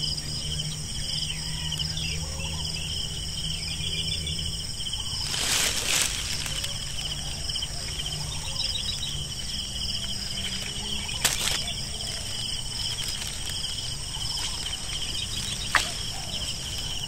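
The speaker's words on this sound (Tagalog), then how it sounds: "Paparinig ko sa inyo yung tunog ng kalikasan dito sa taniman." Steady chorus of crickets and insects droning in a string bean farm, with occasional distant bird calls and a couple of brief rustling bursts, no talk over it.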